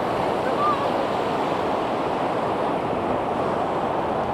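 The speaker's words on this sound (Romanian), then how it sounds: "unde curge și apa, uitați cât de frumos pe sub." Water rushing beneath a small footbridge near the Cetina River spring in Croatia, a steady, close, continuous roar of flowing water with no breaks.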